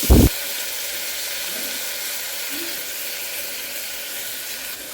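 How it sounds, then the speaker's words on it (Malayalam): An onion drops into hot oil for a beef roast and sizzles with a steady, bright hiss that holds evenly throughout after a brief knock at the start. "ചൂടായ എണ്ണയിലേക്ക് ഒരു സവാള ഇട്ട് കൊടുത്തിട്ടുണ്ട്"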